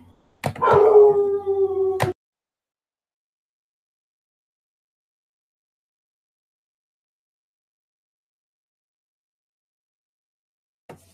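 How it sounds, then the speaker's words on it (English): A dog lets out a loud, close, drawn-out howl mixed with barking in one burst of about a second and a half. Long silence follows, with a faint click near the end. "That dog sound like he a wolf beast, bro. And bark, yeah, got a nice little bark to him."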